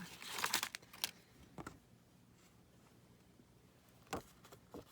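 Paper shapes being cut out by hand for a shaker snow globe ornament craft: a few quick snipping and crinkling bursts up close at the start, then near silence with two more short cuts later.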